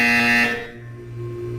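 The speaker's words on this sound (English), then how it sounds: "You will hear a buzzer." A steady electronic buzzer tone from the video game Portal 2, loud for about half a second and then fading into a lower sustained hum, with no one talking.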